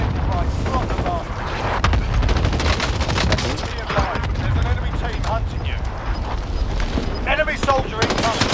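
Dense gunfire rattles through a first-person shooter match, rapid overlapping shots and bursts close by, with voices talking over the din throughout.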